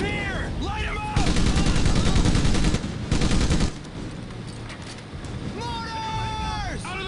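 Bursts of rapid automatic gunfire rattle through a Medal of Honor Pacific Assault battle on a pier, loud and dense, with shouting voices before and after the shooting and a busy combat din beneath.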